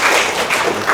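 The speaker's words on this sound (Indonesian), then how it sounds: "saya beri aplaus lagi" Brief burst of applause from an audience at a lecture-style teaching session, dense clapping at close range lasting about a second with no talk over it.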